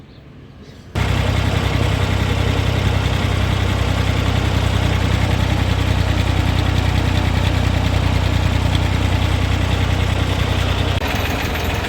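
A tractor engine starts abruptly and runs loud and steady, a heavy low rumble with constant rhythmic knocking close by, then cuts off at the end.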